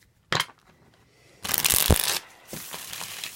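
Tarot cards being shuffled by hand, a short riffle near the start followed by a longer, louder burst of card flutter and a second rustling pass, close and otherwise quiet.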